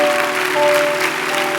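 Church congregation applauding during a worship service, a thick, loud burst of many hands clapping, with a sustained instrumental tone ringing underneath.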